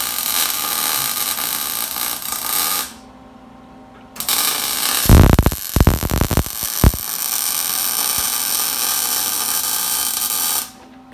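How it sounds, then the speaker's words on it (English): Welding wheel tubs into a Nova wagon: steady buzzing electric hum in long stretches with a pause, crackling sharp bursts in the middle, then the hum cutting off abruptly. "Weld it in."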